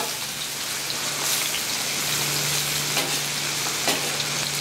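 Potato chips fry loudly on a Blackstone griddle top, a dense, continuous crackling sizzle like heavy rain, with a few sharper pops and scrapes, close up and uninterrupted by talk.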